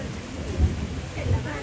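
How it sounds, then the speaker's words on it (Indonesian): Heavy rain pours steadily in a village in Toraja, South Sulawesi, a loud, continuous wash with low rumbling swells, and voices can be heard faintly beneath it. "Hujan deras nih."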